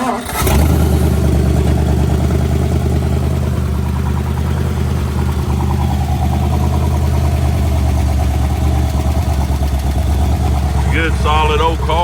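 An original 1956 Ford Fairlane Town Sedan 292 V8 cranks and fires at once, then settles into a loud, steady, deep rumbling idle held close by, with someone talking briefly over it near the end.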